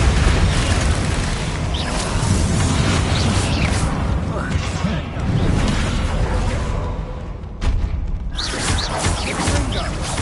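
Bombarda and Confringo spells detonate in Hogwarts Legacy on PS5, with loud, dense booms and bursts overlapping one another nearly continuously, alongside whooshes and spoken spell incantations.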